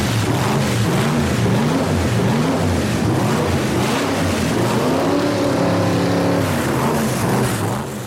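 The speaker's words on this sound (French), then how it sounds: "Le moteur a démarré." A custom-built street line painter's engine runs for the first time with a loud, rough idle and uneven rumbling, the revs wavering up and down throughout.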